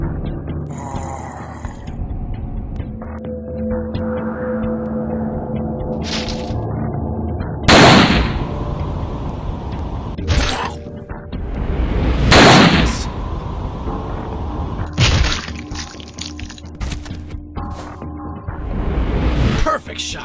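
Several loud, sharp gunshots ring out at intervals in a zombie shooting video game, set against a steady game background hum, with some burst-like bangs standing out clearly.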